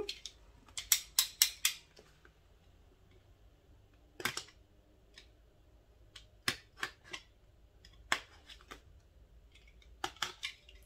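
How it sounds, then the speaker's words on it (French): A box cutter slices through Polaroid GO camera packaging in short sharp bursts of cutting and crackling cardboard, quick clustered strokes separated by quiet pauses, close and fairly soft. "il va me falloir mon cutter pour ouvrir ça"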